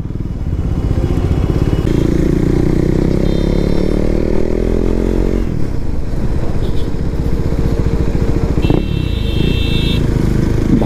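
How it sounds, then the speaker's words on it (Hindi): A KTM Duke 390 BS4 motorcycle with its stock exhaust, engine revving up and dropping back in loud, close bursts over a rough, throbbing idle, with brief horn-like tones from passing traffic. "जो एग्जॉस्ट लगा हुआ है स्टॉक है स्टॉक का ही साउंड ऐसा है"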